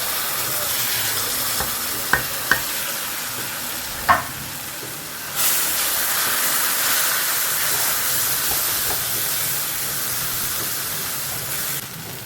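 Cashew paste sizzles and hisses steadily in a frying pan over low gas heat, with a few sharp clicks of stirring near the start and a rise in the frying hiss partway through, with no talking.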